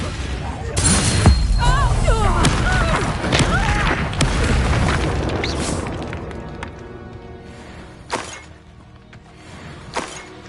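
Confringo explosive spell cast in the Hogwarts Legacy video game, bursting with crashing, shattering impacts amid game effects and a voice, then fading into lighter hits later.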